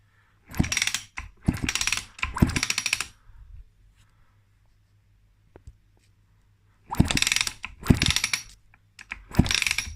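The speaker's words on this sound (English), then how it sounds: "I'm just going to put the spark plug in now." A spark plug is fitted into a KTM 65 SX engine during a top end rebuild, giving two clusters of quick, close metallic ratcheting clicks from a hand tool separated by a quiet pause, with no talking.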